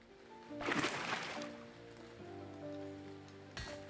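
Rain falling in the Mountaincore building game, a steady soft patter with a louder burst of broadband hiss early on, set against a low tonal background drone.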